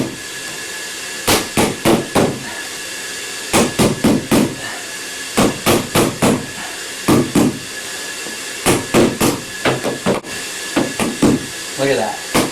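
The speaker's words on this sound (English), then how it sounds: "take your stair tool, put it along the edge there. You got that carpet flipped up, you're going to hammer it" A rubber mallet taps a stair tool to tuck a flipped-up carpet edge under, in repeated bursts of three or four quick dull knocks, close and loud, with pauses between bursts.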